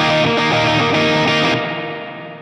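An electric guitar plays a distorted chord sequence through an AmpliTube Orange amp simulation, loud and close, then the notes ring out into a long, fading hall-like reverb tail.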